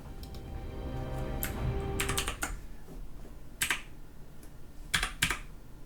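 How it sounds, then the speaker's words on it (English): Bursts of clacky keyboard typing in short clusters with pauses between, close and fairly crisp, no talking, during a StarCraft match cast. "Keyboard not cooperating with me"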